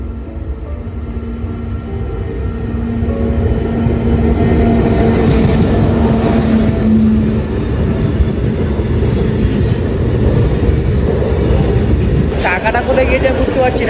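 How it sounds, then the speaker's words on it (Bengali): A train passes close on railway tracks, a loud rumbling roar of wheels and wagons that swells and holds, with a sharp high screech near the end and a voice talking over it. "ট্রেনের আওয়াজ শুনতে পাচ্ছ"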